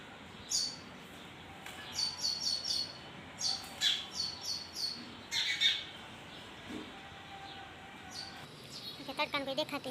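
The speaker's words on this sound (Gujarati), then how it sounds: "કેવી ચકલિયું બાંધે," House sparrows chirp around a home in the early morning, with quick bright chirps in scattered clusters, fairly close but soft, over a quiet background.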